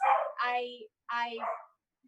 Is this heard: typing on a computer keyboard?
no